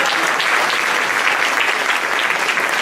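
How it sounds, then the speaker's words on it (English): Loud, dense applause from the audience at a Sacramento Darwin Day event, honoring the exhibitors, a continuous roar of many hands clapping close by without a break. "Let's give the exhibitors a round of applause for sponsoring and commentating this today."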